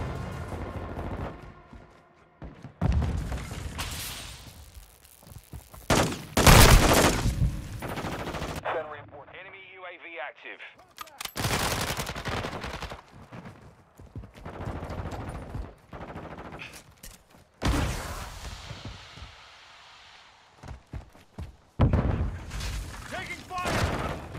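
Gunfire in a Call of Duty-style video game shooter arrives in repeated loud bursts and rapid volleys separated by brief lulls, with announcer-style voice lines and talk heard between the shots.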